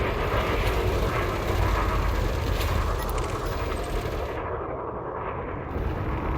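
Spaceship weapons fire in the space combat game Elite Dangerous, a dense, loud, continuous barrage of booming shots and rumble with no pauses, no voices over it.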